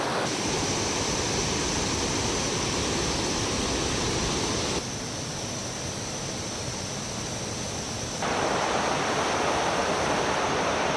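A waterfall near Da Lat, Vietnam gives off a steady, dense roar of rushing water that fills the whole stretch, with no voices.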